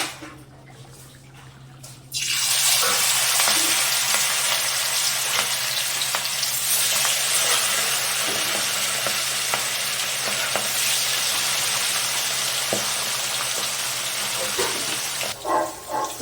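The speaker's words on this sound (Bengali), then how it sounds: "এইভাবে অল্প অল্প করে মাছগুলোকে ভেজে নেওয়া হবে।" Thin hilsa fish pieces hit hot oil in a kadai and burst into a loud, steady sizzle that fills the whole stretch, with faint stirring scrapes and no voices.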